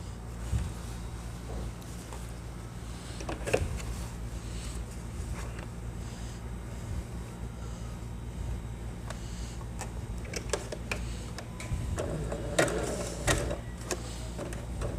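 A domestic sewing machine stitches fabric and elastic at close range in steady, continuous running bursts, with a low motor hum throughout and a few brief clicks and handling knocks.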